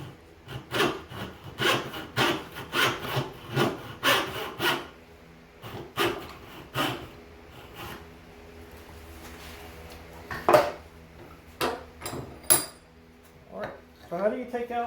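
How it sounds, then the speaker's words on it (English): Hand-tool woodworking on a single dovetail in oak, a steady series of short scraping and rasping strokes close by, then a few sharper isolated taps with brief quiet gaps. "We can take our chisel and we can clean"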